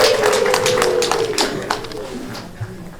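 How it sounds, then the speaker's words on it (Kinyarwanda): Guests at a Rwandan wedding clap in scattered bursts that thin out toward the end, while a person speaks loudly over the applause. "nimubongere mu bakomera amashyi cyane"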